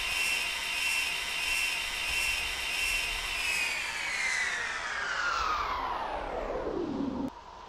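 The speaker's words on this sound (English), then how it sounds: "Oh, you hear the jet." A jet engine roars loud and steady in the Falcon 4.0 flight game, its high whine sweeping downward as the crashing plane passes, then cutting off abruptly near the end to a quieter hum.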